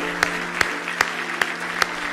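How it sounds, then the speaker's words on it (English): Five distinct hand claps ring out at a steady, even pace in a church service, each a sharp close transient over a constant low hum and room noise. "Why don't you give the Lord a big hand clap of praise?"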